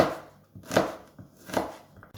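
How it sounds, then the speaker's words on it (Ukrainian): Knife chopping an onion on a board, three distinct crisp cuts spaced evenly, close and clear with no talking. "Я не буду різати її напівкільцями ось так, а буду різати ось з цієї сторони"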